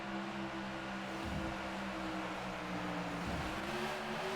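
Stock car engines in the video game NASCAR 2011 as a Sprint Cup race gets under way, a steady, fairly quiet engine drone with slight shifts in pitch and no voices.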